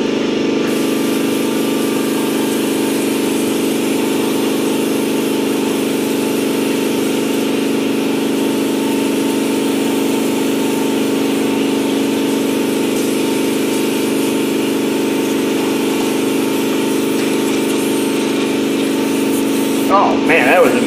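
An air compressor runs with a steady, loud motor drone and a hum that holds constant for about twenty seconds, up close. A brief clatter comes near the end.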